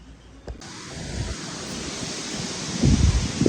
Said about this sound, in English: look at that wind blowing